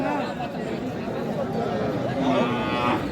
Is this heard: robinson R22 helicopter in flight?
no